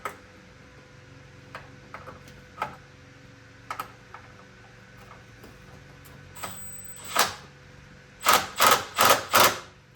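A power drill on its lowest setting whirs in short bursts tightening battery bolts in a 2020 Club Car Onward golf cart, four quick pulses near the end after one earlier run, amid scattered clicks and taps in a quiet room.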